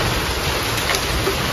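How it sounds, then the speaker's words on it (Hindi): Heavy rain during a sudden windstorm, pouring steadily in a dense, broadband hiss with no pauses and no voices. "अचानक से इतना आंधी तूफान और इतनी बारिश भी चालू हो गया है ना"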